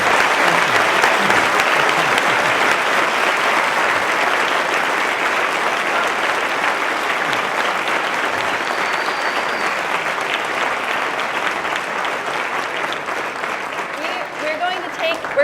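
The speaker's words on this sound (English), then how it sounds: "let's give our speakers a round of applause." A lecture audience at a university talk applauds its speakers, producing a loud, sustained, even patter of clapping that carries on without pause and thins slightly toward the end.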